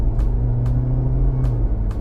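A 2024 Jeep Wrangler Rubicon plug-in hybrid accelerates, heard from inside as a steady low electric whine and road rumble with a few faint clicks, loud and close, no talk.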